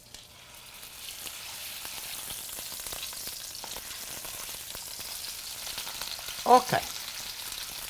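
Meat fries in a pan with garlic pushed to one side, producing a steady, moderate sizzle that builds after a quiet start, with a couple of brief clinks near the end and a short spoken word.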